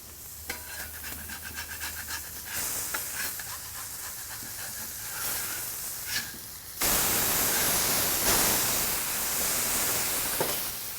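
Smashed burger patties sizzle loudly on a flat griddle after being flipped with a scraper, a steady broad hiss with scattered crackles and pops that grows louder and brighter partway through.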